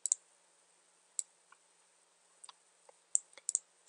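Sharp mouse clicks on a computer while opening a web page link, a handful of isolated taps with short pairs and gaps between them, close and quiet with no voices.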